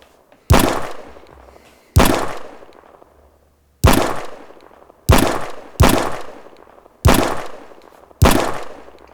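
Seven sharp pistol shots fired in an Oculus Quest VR game built in Unity, each a loud, abrupt crack with a short decaying tail, spaced irregularly about a second apart with no talking.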